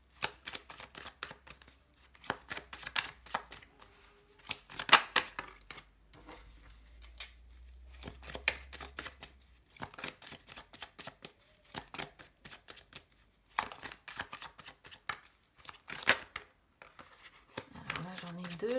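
Tarot cards are shuffled for a reading in repeated bursts of papery riffling and slapping, with quiet gaps between the bursts.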